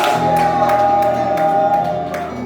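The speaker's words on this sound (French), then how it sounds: "Est-ce qu'on peut pousser les cris de joie?" A church congregation at a Sunday service in Brussels lets out loud, sustained shouts and whoops of joy, a dense crowd roar that swells together and then tapers off slightly.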